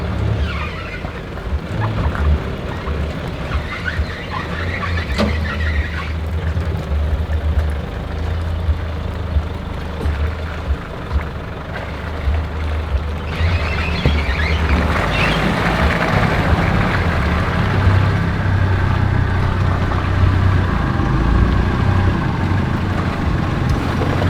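A 4WD vehicle grinding slowly over a big log on a rough bush track in Tasmania, with a steady low engine drone and rumble that swells louder partway through, no voices.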